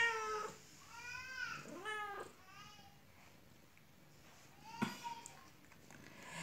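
A cat meows several times in drawn-out, wavering cries, fairly close but quiet, with pauses between calls.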